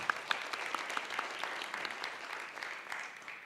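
Applause at a conference panel, an audience clapping with some sharp individual claps standing out near the front, steady then gradually easing off.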